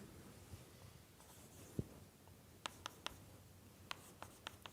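Marker or chalk writing on a board in a numerical methods lecture, heard as faint scattered strokes and sharp short taps in a quiet room, with no talk over them.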